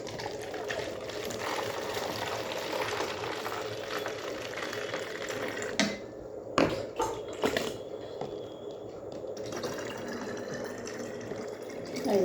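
Water bottles are filled by hand from a source at home. A steady low rush of pouring water runs throughout, broken by a few short knocks and handling noises near the middle.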